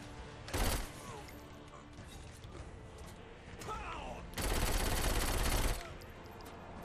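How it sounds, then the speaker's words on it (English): Gunfire in the Saints Row 4 video game, scattered shots and a couple of louder rapid bursts amid busy game noise, moderately faint. "why do I have other people shooting at me too?"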